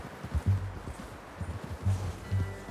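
Horse hooves clip-clop in a steady walking rhythm inside Red Dead Redemption 2, close and fairly soft, several clear strikes with low thuds and no voices.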